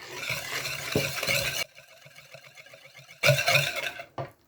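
A spoon stirs chocolate cake batter with oil and milk in a bowl, making wet, rhythmic scraping swirls in loud bursts with a quieter stretch of soft regular strokes between, and no talking.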